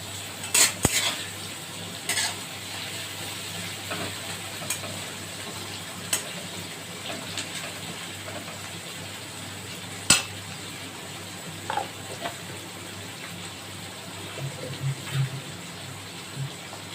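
Sliced onions with a pinch of salt fry in a pan under a soft, steady sizzle, broken by occasional sharp clinks and scrapes of a utensil stirring against the metal.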